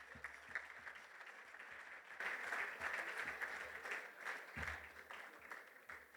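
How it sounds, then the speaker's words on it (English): Audience applause at the Western Province Referees Annual Awards Dinner: a steady round of clapping from a dining crowd that swells after a couple of seconds, then continues evenly, heard from some distance and fairly quiet. "Give them a round of applause again."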